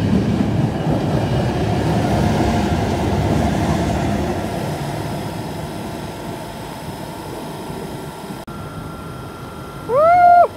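Train rumbling steadily at Den Haag Centraal station, a broad continuous roar of wheels and motors that eases off, followed near the end by a loud, brief whistle or horn blast.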